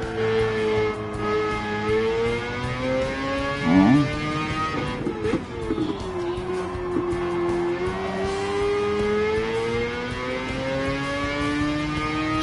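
Racing-game car engine droning and shifting pitch steadily throughout, with a brief tire squeal or skid near the middle; loud and continuous, with no talking.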